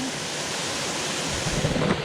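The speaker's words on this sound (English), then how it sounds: "We're gonna swim in the waterfall." A waterfall in the Tobago rain forest roars as a steady, loud broadband rush of falling water, continuous and close, with faint voices near the end.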